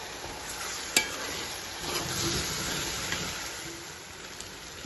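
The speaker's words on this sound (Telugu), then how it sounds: "ఇప్పుడు ఒకసారి తిప్పుతున్నాం." Masoor dal frying in ghee is stirred in a pan, a soft continuous sizzle with a few scraping clicks from the spoon, quiet and close with no voices.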